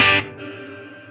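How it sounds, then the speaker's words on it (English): A single electric guitar chord struck and cut off, leaving a soft reverb tail that rings out and fades. "Once you add that reverb,"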